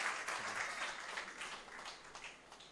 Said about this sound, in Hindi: मैं आपसे दरख्वास्त करता हूँ कि एक बार इरशाद अंजुम के लिए तालियां।